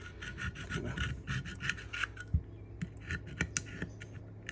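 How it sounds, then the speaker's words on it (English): A gasket scraper rubs and rasps over the metal of a Carter YS carburetor during a rebuild for an M38A1 jeep, making quiet, close, repeated scraping strokes in an uneven rhythm. "We use a gasket scraper here."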